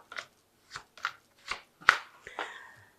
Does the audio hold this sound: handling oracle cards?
yes